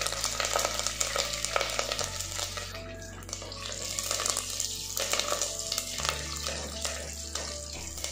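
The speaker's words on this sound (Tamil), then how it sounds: "கருவேப்பிலை வந்து இந்த எண்ணெயில் நல்லா ஃப்ரை பண்ணிடுங்க" Curry leaves, mustard seeds, fenugreek and fennel frying in hot coconut oil for a Pondicherry-style fish kuzhambu, a loud continuous sizzle and crackle with stirring scrapes over a steady tonal hum.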